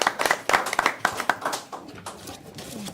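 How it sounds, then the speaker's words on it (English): A small group at a board of education meeting claps with sharp, separate hand claps that come quickly at first, then thin out and soften into faint background noise. "Let's give everybody here a nice round of applause"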